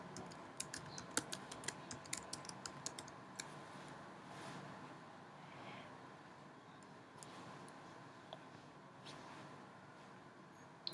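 A server name is typed on a computer keyboard, a quick run of faint, close key clicks in bursts over a quiet room hum, thinning out to a few scattered taps later.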